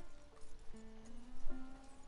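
A horse moves through bushes in the Red Dead Redemption 2 video game, its hooves clip-clopping softly over about two seconds beneath steady tonal game sounds.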